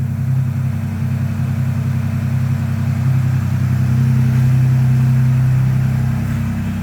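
A Ford Bronco Raptor with the 3.0 engine rolls forward in four-wheel drive, its steady low engine hum loud and close, rising slightly as it pulls up, with no talking over it.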